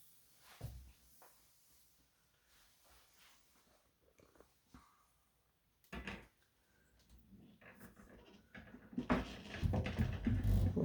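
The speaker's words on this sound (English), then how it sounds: "I'll go over here and I'll open the cupboard doors." Wooden cupboard doors on an antique child's washstand in a family room are opened, giving a few soft knocks and clunks followed by louder rustling handling noises toward the end.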